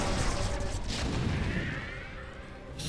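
Lurker spine attacks tearing through an army in the video game StarCraft: Brood War, a dense continuous crackling barrage of impacts layered with booms, steady and loud throughout.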